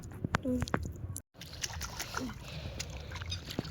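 Freshly caught shrimp rinsed in river water make short splashes and sloshing trickles, close by, with a voice speaking over them outdoors.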